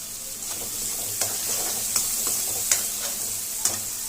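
Pakodi curry masala fries in a pan with a constant crackling sizzle, broken every second or so by sharp scrapes as a utensil stirs the mixture close by.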